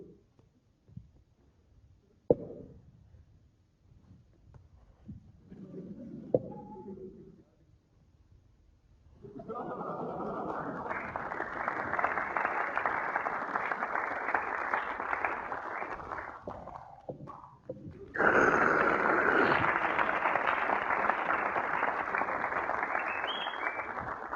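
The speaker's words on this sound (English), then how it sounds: "Get ready to applaud, by the way." A stand-up comedy audience bursts into loud applause after a quiet stretch with a few stray sounds, the clapping swelling and continuing as a steady roar, then growing even louder near the end.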